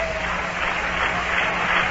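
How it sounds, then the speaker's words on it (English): Baseball crowd at a Mets–Giants game clapping in the stadium, a broad, steady wash of distant applause with constant crowd murmur and no clear beat standing out. "Fans start rhythmic applause."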